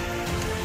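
Rain pattering steadily on a surface outdoors, a close, even patter that fills the whole short moment with no voices.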